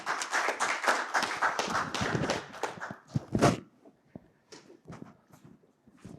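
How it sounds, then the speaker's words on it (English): Applause from the audience at a women-in-energy think tank, a burst of hand claps that fills the first few seconds, then thins to a few scattered claps and taps before fading out. "Let's give you a round of applause again."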